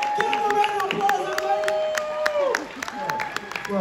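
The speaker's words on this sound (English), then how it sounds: "Give him a round of applause," Applause and cheering from a convention crowd at Stranger Con in Los Angeles as a guest named Eduardo is introduced, with steady clapping and whoops under excited speech and shouts.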